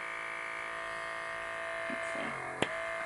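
A battery-powered Dermasuction blackhead and pore vacuum device runs with a steady, faint electric whine and hum, followed by a few small handling clicks near the end.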